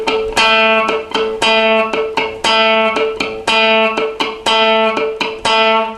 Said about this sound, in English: use the plectrum to pluck down on the note